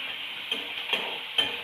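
Pieces of stale bhakri are stirred in a dry kadhai, a steady faint hiss broken by three short scraping strokes of the spoon.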